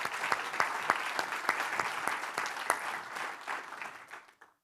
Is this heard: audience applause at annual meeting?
yes